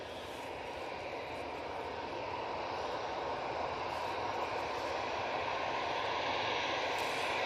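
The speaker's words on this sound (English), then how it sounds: "Next on, we've got the Jet2 A321 CEO," A Jet2 Airbus A321ceo airliner at Manchester Airport gives off a steady broad roar of jet engines, moderately distant and gradually growing slightly louder, with no speech.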